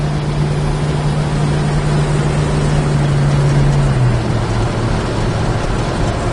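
A red 1965 Pontiac GTO post coupe with a Tri-power engine drones steadily while driving, its low exhaust tone holding even and then dropping in pitch partway through, loud and close with no talk.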